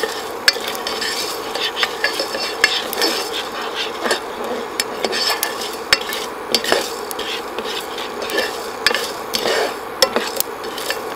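Cumin seeds are dry roasted and stirred in a pan, giving a steady crackling sizzle with frequent scraping clicks from the utensil, close and fairly loud.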